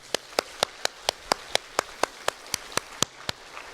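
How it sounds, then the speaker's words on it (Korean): A church congregation clapping at a harvest thanksgiving service, heard as a single crisp, evenly spaced clap repeating about four times a second, distinct and moderately close against a quiet room. "감사와 마음을 담아 박수로 올려드리겠습니다"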